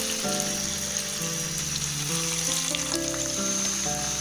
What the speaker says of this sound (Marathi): थोडंसं टिक्की आपली तेलामध्ये फ्राय होऊन द्यायची नंतर हलवायचं आहे